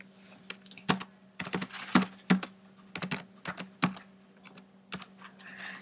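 Computer keyboard keys are tapped in irregular bursts, with sharp close clicks that are sometimes single and sometimes quick pairs, as R and the space bar are pressed over a faint steady hum.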